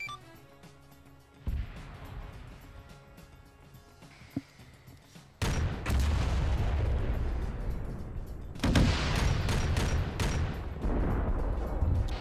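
Heavy cannon fire from tanks in a video game tank battle, with large booming blasts at about 1.5, 5.4 and 8.7 seconds, each followed by sustained rumbling, loud and close.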